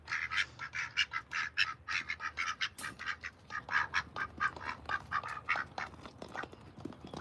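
Many video game ducks quack rapidly and continuously in a busy, overlapping chorus, close by and fairly loud.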